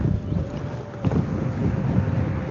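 Steady wind buffeting outdoors at a street protest in Dublin, Ireland, a constant low rumble and hiss across the whole stretch, with no one speaking.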